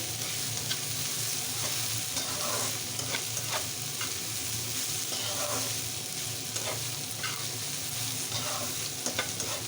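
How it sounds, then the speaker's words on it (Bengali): Potatoes frying with bottle-gourd skin are stirred in a pan, the spatula scraping and knocking over a constant close sizzle for several seconds, with no talking. "ঢাকনাটা তুলে নেড়ে নিচ্ছি"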